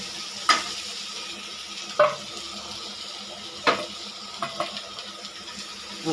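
Potatoes and soybean chunks being stirred in a pan over a low sizzle, with sharp clinks of the spoon against the pan at irregular intervals, close and moderately quiet.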